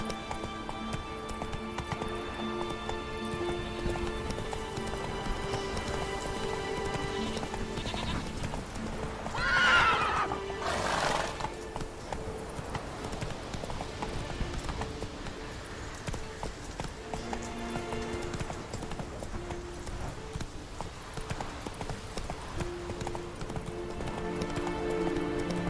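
A horse gallops with steady clip-clop hoofbeats in The Witcher 3: Wild Hunt, giving one sharp neigh partway through; continuous moderate hoof rhythm with faint ambient background and no talk.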